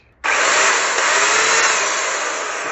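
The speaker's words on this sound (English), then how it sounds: "So I got a chainsaw for Christmas." A chainsaw starts abruptly and keeps running at a high, loud, steady whine with a buzzing edge, close by and unbroken, with no talking over it.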